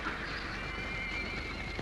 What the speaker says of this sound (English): Oh, Diablo's still a wild horse